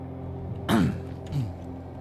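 A man clears his throat and coughs twice, short and close, against a low steady hum from a Pathologic 2 game.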